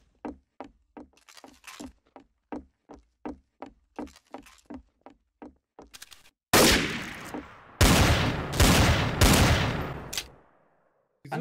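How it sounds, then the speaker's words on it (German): Desert Eagle pistol fire in the shooter game TTT: a steady run of about fifteen sharp, evenly spaced shots, then several heavier, louder blasts that ring out and fade, with no talking. "Wieso schießt die Deagle bei dir?"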